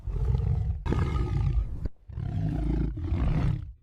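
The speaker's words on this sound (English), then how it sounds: "It is a guttural, terrifying sound of absolute challenge." A male lion roars at night in the open savannah plains, loud and close: two long guttural roaring bursts separated by a brief pause, dominating the soundscape with no other noise.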